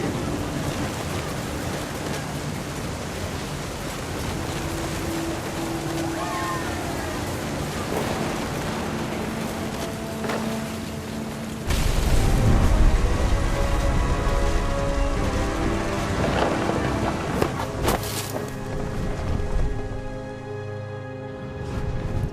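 A thunderstorm in the video game What Remains of Edith Finch: steady heavy rain on surfaces, then a loud close thunder crack about halfway through that rumbles and rolls on under the downpour.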